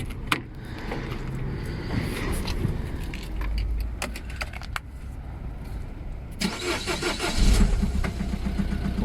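Keys jangle near the start, then a Citroën C4 Picasso engine cranks and catches around the middle, settling into a close mid-pitched idle with a brief rev toward the end.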